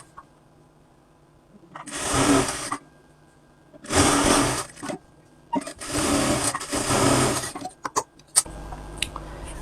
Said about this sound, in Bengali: হাতার মুখের মাপ ঠিক রেখে এখন আমরা হাতাটা সেলাই দেব।